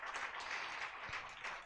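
An audience applauds for Prudential at an event, a short, faint burst of scattered hand clapping that tapers off within a couple of seconds.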